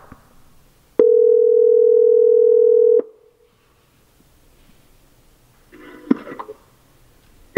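A steady two-second tone sounds loud and alone as a hands-free call placed through Apple CarPlay rings out in a 2016 Corvette, then a quiet pause before a short burst of faint rustling.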